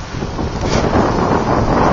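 Strong wind on Boracay Island toward evening roars steadily, buffeting the microphone with a constant low rumble and rising gusts throughout.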